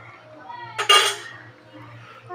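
A utensil stirs food in a pot at home, making one short, bright scrape and clatter of metal near the middle, set against a quiet, low room hum.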